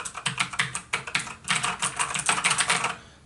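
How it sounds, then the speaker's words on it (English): Rapid typing on a mechanical keyboard with clicky blue switches, close and crisp, with a steady stream of sharp, high-pitched clicks in irregular bursts and no voices. "these are going to be a little bit clickier, louder, a little bit more high-pitched, a little bit more of a crisp pop"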